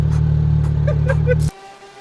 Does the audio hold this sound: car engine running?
yes